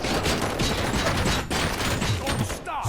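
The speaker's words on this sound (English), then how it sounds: "Hey, am I hearing gunshots?" Rapid bursts of gunfire fill a firefight in the video game RoboCop: Rogue City, loud and continuous over shouting voices and clanking mechanisms.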